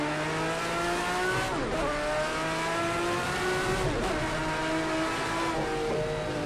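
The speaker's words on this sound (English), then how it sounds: "Ooh, the car got a little crossed up there." A Group C race car in Project CARS 2 at Algarve wails at high revs, with pitch sweeping down and back up as it slides, steady and loud with no voices.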